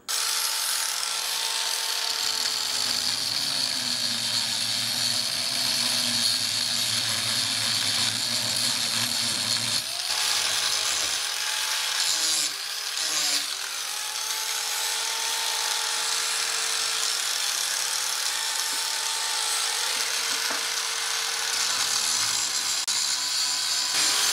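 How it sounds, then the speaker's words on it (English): A saw cuts a metal tube for a go-kart build, a steady loud whining drone with pitch sweeps as the blade bites, running continuously through the whole stretch with a brief dip midway. "I'm gonna make a cut in here with a saw so that this fits this better"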